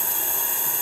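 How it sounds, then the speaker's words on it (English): A workshop vacuum hold-down pump runs on a machining pallet used for titanium sheet, a steady close hiss and whine with no pauses and no voices. "I've got a vacuum down, you can hear the vacuum on right now"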